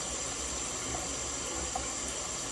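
Hot water runs steadily from a tap into a sink, a continuous close hiss and splash with no talk.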